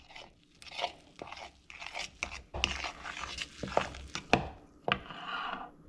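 Food gets mixed in a pan, a series of irregular close scrapes, taps and crunchy knocks from a spoon or spatula, quiet and uneven in rhythm.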